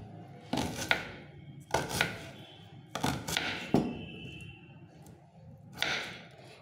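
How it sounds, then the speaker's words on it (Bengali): Knife chopping a peeled onion into large chunks on a board: several sharp thunks in irregular clusters, close and fairly loud, with short pauses between cuts and no talking. "এভাবে করে পেঁয়াজটা কেটে নিলাম"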